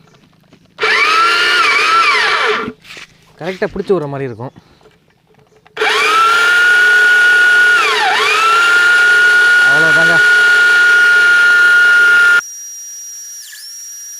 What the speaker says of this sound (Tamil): இப்போ அப்படியே ட்ரில்லிங் மிஷினில் வந்து ஆன் பண்ணிடுவோம்